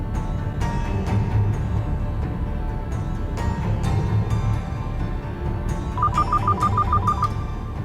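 Telephone ringing during a call in an office scene: a rapid, trilling electronic ring repeats in a quick burst near the end over a steady background hum, with no talking.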